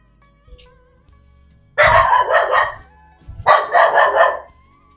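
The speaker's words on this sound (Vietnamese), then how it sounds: "Ồ, chó nó sủa quá trời luôn." A dog barks loudly and close by in two rapid bursts, each a quick run of three or four barks, with a short quiet gap between them.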